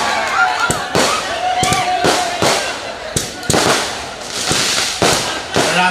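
Firecrackers burst repeatedly during an outdoor stage comedy show at Rongamati, sharp loud bangs coming every half second or so, some overlapping, over a steady background hiss.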